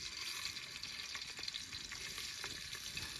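Onion paste and tomato sizzle steadily in hot oil for a chicken dish, a close, even frying hiss with faint stirring scrapes and no voices.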